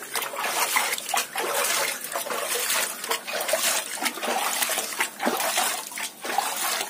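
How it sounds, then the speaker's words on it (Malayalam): Water scooped from one container and poured into a betta fish container, a steady splashing trickle with brief pauses, close and fairly loud, with no talking. "ഇതിൽ നിന്ന് കുറച്ച് വെള്ളം ഇതിനകത്ത് കോരി ഒഴിക്കുക"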